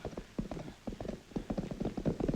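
Two mounted guards' horses clip-clop in a brisk, steady rhythm of overlapping hoofbeats at moderate distance, with no other sound in the mid-1950s French film scene.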